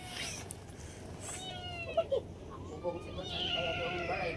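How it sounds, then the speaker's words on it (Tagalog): A cat meows several times inside a house, its cries rising and falling over a steady background hum, with brief clicks and knocks between the calls. "Uy, nakawawa yung pusa."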